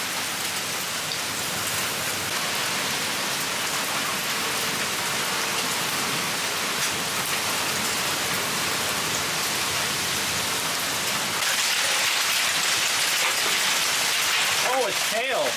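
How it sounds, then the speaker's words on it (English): Steady June hail and rain drumming on a roof, a continuous dense patter that grows heavier and harsher toward the end, heard from indoors. "There is hail out there right now."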